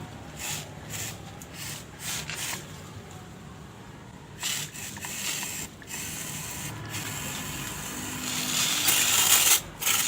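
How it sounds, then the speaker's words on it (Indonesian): A hand sprayer pumped and spraying gibberellin (GA3) onto grape flower clusters outdoors, a series of short hissing sprays with mechanical clicks in between, close by and no talking, growing louder toward the end. "semprot dulu semuanya."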